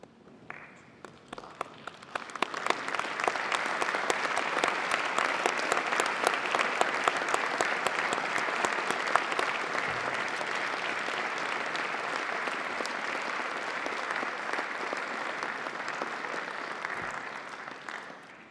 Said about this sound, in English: join me in giving them a well-deserved round of applause